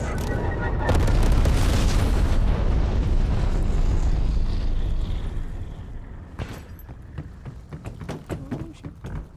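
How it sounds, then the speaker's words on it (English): Napalm strike explosions roar in Call of Duty Black Ops Cold War, a long loud rumbling blast that fades after about five seconds into scattered sharper bangs and pops. "Enemy napalm strike incoming."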